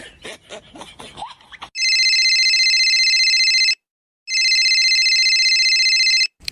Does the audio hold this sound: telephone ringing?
yes